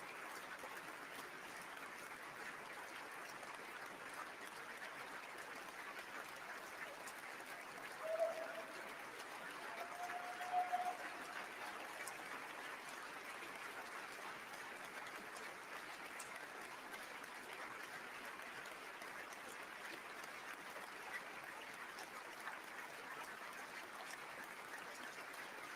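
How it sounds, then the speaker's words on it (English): Audience at the Nobel Peace Prize ceremony applauding steadily, a continuous soft wash of many hands clapping that sounds distant and fairly faint, with no talk over it. "And the applause continues."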